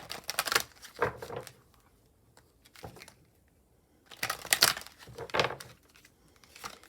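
Tarot cards being shuffled in a few quick riffling bursts with pauses between, close and moderately quiet, no voices.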